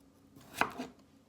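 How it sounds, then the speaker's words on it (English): Knife slicing thinly through a peeled, washed raw potato: a single crisp cut with a soft knock on the board, close and clear in an otherwise quiet moment, with no talking. "So I have my 4 potatoes that I peeled and washed, and I'm gonna thinly slice these"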